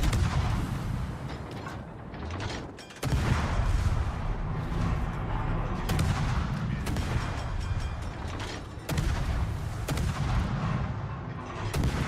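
Naval gunfire in World of Warships, including AI secondary gunners on the Los Andes and incoming Musashi shells: heavy, booming salvos hit at irregular intervals over a continuous rumbling battle din, loud and close.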